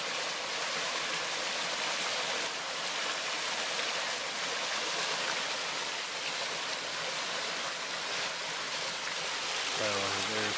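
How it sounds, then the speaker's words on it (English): Rushing water pours steadily and loudly, a constant broad roar of a stream flowing to a waterfall at Kaikoura, New Zealand, with a brief voice near the end. "So they're supposed to go up the stream to that waterfall"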